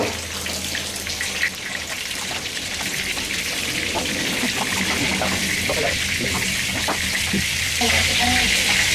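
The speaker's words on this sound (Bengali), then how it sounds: "এখন তেল গরম করে সেটার মধ্যে ভাজব" Brinjal slices fry in hot oil for a Bengali begun bhaja, giving a steady close sizzle dotted with small pops and crackles that grows slightly louder toward the end.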